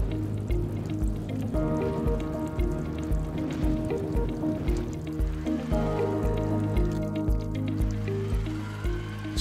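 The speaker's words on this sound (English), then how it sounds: "and water is injected into the chamber." Water injected into the chamber of a Celitron ISS 500L automated infectious waste sterilizer during its steam heating stage, a steady rushing, dripping liquid flow over constant machine hum.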